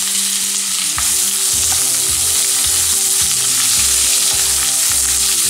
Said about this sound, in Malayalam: ഇനി സവാളയും പച്ചമുളകും എല്ലാം കൂടി ഇട്ട് ഒന്ന് വഴറ്റിയെടുക്കണം.